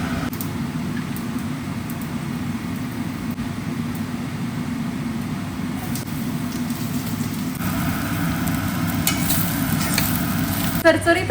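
Vegetables fry in avocado oil with a steady close sizzle, stirred now and then, for a healthy sabzi made alongside chapatis; a brighter crackle builds toward the end.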